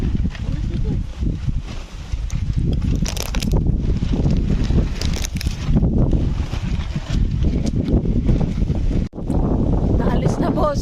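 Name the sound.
strong wind at campsite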